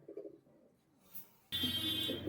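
Pigeons coo in soft low throaty bursts, with a brief near coo phrase followed by quiet, then a louder broadband rush of noise in the last part masking further sound; no talking.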